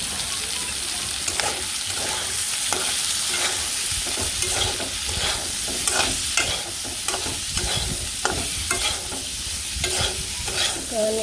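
Spices with salt, turmeric and chili powder being stirred and fried in a pan for a potato and soybean curry, with a steady sizzle broken by repeated scraping strokes of a spoon, close up and without talk.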